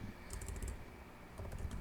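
Computer keyboard typing while entering a Helm repo add command for a Prometheus-operator chart, two short bursts of quick close keystrokes separated by a pause, no talking.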